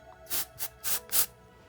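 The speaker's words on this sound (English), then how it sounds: "Then once you spray it in, give it a second." Hair spray aimed at the roots of the front hair while styling a twist ponytail: four short, quick bursts of aerosol hiss, close and fairly loud, separated by brief pauses, with no talking.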